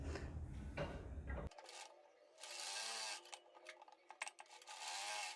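A sewing machine runs steadily along a blouse seam about a quarter inch from the edge, its close mechanical whir shifting partway through into lighter, scratchier rattling with brief pauses and no voices.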